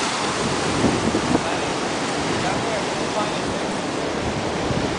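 Surf at Playa Las Penas beach in Mexico, a loud continuous roar of breaking waves and rushing water that swells slightly now and then, with no pauses.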